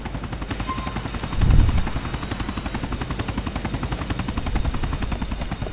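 Helicopter in the Grand Theft Auto IV video game, a steady loud rotor chop with rapid rhythmic beating throughout, with a deeper thump partway through and no talk.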